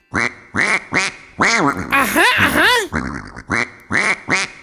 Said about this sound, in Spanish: ¡Es un pato!